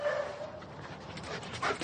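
A Belgian Malinois dog makes soft panting and whimpering sounds close by, with a faint yip near the end, at fairly low volume.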